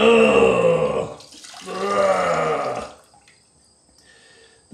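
Water gurgles loudly as it drains out of a sink in two bursts of bubbling, sucking sound, then gives way to near silence with a few faint drips and clicks.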